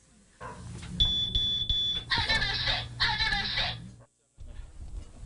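A household alarm-type smoke detector sounds with shrill, piercing beeps and harsh high-pitched bursts, loud and close, then stops for a brief silence before the noise returns.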